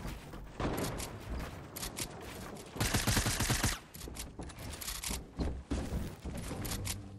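Rapid bursts of gunfire from a Fortnite Battle Royale match, with dense, loud volleys and a heavy stretch of shooting in the middle amid game noise.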